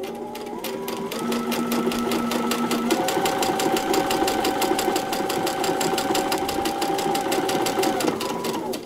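Sewing machine running steadily and continuously as it stitches along a paper-piecing line, a rapid even mechanical whir with faint tonal hum, with no talking.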